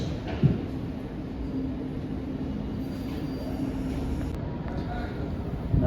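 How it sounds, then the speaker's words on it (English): Class 465 electric multiple unit 465 914, an eight-coach train bound for Orpington, pulls away from a London station, a steady low rumble holding throughout with a faint brief squeal near the start. "Now departing is 465 914 bound for Orpington."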